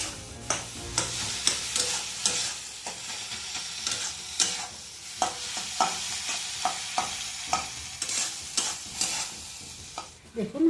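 Eggs frying and being stirred in an oiled wok for dhaba-style egg bhujia, with a steady sizzle broken by repeated scraping, clinking strokes of a spatula against the pan, close and fairly loud, with no talking.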